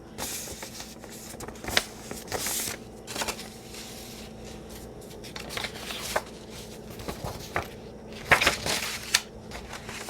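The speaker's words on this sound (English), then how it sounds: "I don't want the holes on this sheet music, so I'm just going to shut that or cut it off." Sheet music paper being cut, with scattered crisp paper crackles and snips arriving in short bursts against a quiet room background.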